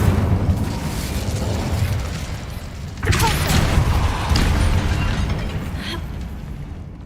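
An Incendio fire spell goes off in Hogwarts Legacy as a booming, whooshing burst of flame over a dense, rumbling game soundscape, with a second surge a moment later.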